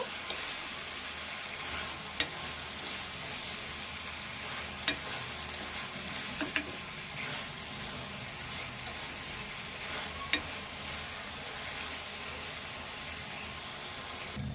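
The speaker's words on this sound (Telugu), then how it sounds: "ఇవి వేయించుకోవాలి కొద్దిసేపు." Prawns fry steadily in a pan for a prawn curry, giving a continuous broad sizzle with a few sharp clicks of stirring scattered throughout, close and moderately loud with no talk.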